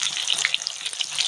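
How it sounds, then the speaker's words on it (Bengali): Brinjal slices salted and coated with turmeric sizzle in hot oil in a kadai, a steady close crackling fry with small pops and no voices. "তো বেগুনগুলো আমি কড়াইতে দিয়ে দিলাম"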